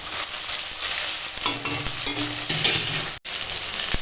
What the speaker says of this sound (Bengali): পেঁয়াজের সঙ্গে এই সোয়াবিনটা সোয়াবিনটা দিয়ে ভাজি